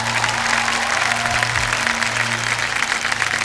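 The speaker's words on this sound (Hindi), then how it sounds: "मुकेश जी प्रणाम, और एक बार फिर तालियों के साथ आपका स्वागत।" Studio audience applause on the game show Kaun Banega Crorepati, a dense, steady wash of clapping with a low musical tone underneath throughout.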